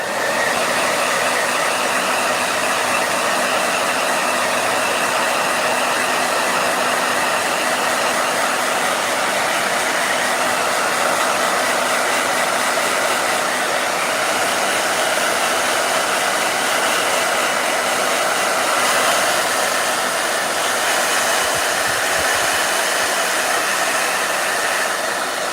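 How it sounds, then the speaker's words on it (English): A blow dryer runs continuously for the whole stretch, a steady, loud airy whoosh with a constant motor hum and no breaks. "Blow dryer."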